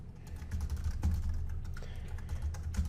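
Rapid keystrokes on a computer keyboard while filling in a Twitter handle during an Ubuntu 20 install in VMware Player, a steady close clatter of irregular taps with no voices.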